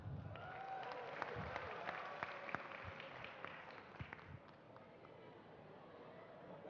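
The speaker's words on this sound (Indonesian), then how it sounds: "Tepuk tangan." An audience claps together at an Islamic religious talk after a child answers a question, a steady, moderately distant wash of applause that lasts the whole stretch with a few sharper claps standing out.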